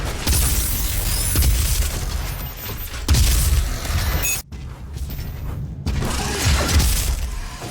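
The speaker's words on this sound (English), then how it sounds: "The guns sound really good, especially the Gauss cannon." In DOOM (2016), a Gauss cannon fires in a series of loud, heavy blasts with shattering, booming crashes, separated by short pauses and one near-silent gap.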